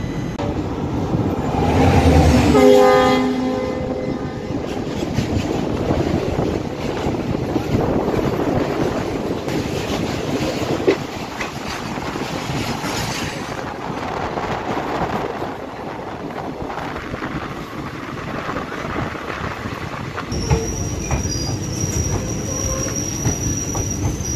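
The Koyna Express rolls into Nira railway station with loud squealing wheels, then a long rumbling and clattering as it slows, ending with a faint high-pitched hum.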